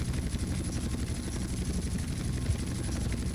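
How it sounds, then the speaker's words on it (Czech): An aircraft in the multiplayer game GTA San Andreas, a loud continuous low whirring engine drone with a rhythmic rotor-like pulse, steady and close throughout. "letadlo tady"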